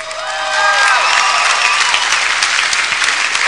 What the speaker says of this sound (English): That's called medium applause, King